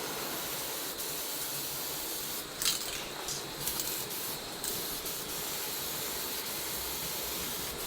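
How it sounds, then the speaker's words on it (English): Continuous hissing spray from a paint sprayer applying a second coat to a Mazda NA Miata center console, steady and close, with a few brief bursts and pauses of rubbing noise midway. "I'll be back with you guys while I'm spraying the second coat"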